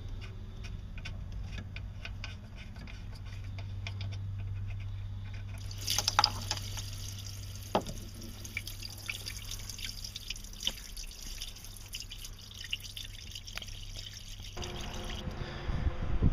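Water drains in a steady trickle with scattered drips from an Indmar Monsoon 350 inboard boat engine during winterization after the drain plug is pulled, a close, continuous flow that grows brighter midway.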